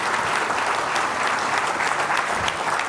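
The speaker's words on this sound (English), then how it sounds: "one more round of applause for Sylvia." Audience applause after an inspirational talk, steady dense clapping from a crowd filling the space continuously, loud and sustained with no speech over it.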